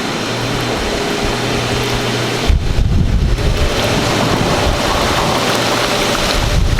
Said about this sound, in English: If you hear any extra noise, it's definitely the wind.